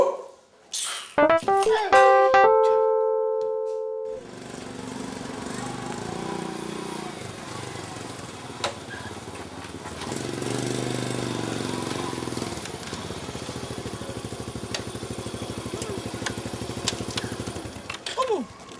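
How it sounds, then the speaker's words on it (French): A motorcycle engine runs with a steady, buzzy drone and rhythmic pulsing, rising in intensity midway, after a few sharp tonal sounds at the start. "C'est vraiment ta moto?"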